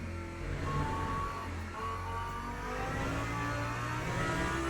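A race car engine in the Le Mans Ultimate game at the Algarve circuit, Portimao, revs and accelerates through the gears, a loud continuous droning whine rising and falling steadily with no other sounds.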